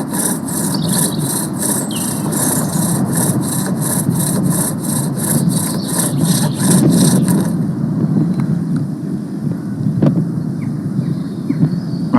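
Steady, gritty rasping of a bow drill with a stone bit grinding against rock, continuous and close, with a rhythmic scraping texture at first that smooths out partway through.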